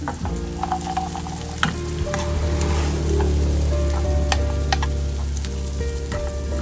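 Pork chicharon dropped into a hot pan, sizzling and frying loudly and close, with stirring noises and a steady crackle over a low hum.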